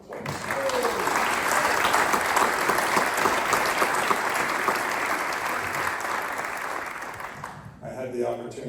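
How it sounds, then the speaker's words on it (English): An audience at an event claps in sustained, dense applause for about eight seconds before it tapers off, followed by a brief voice at the end. "Let's give Alfred a round of applause."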